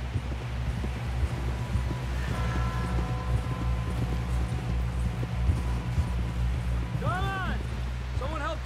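Horse hooves clip-clop in Red Dead Redemption 2, a steady trot under in-game music and wind, continuing beneath voices until a brief chirping call near the end.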